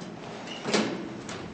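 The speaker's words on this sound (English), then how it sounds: "Doors closing." Lift doors on a 1999 Goodgames Elevadores Ultima elevator slide shut, giving a soft, brief sliding rumble with a muffled thud at the end over a quiet, hissy background.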